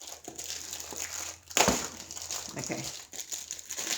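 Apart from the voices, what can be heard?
plastic packaging being crinkled while unboxing a parcel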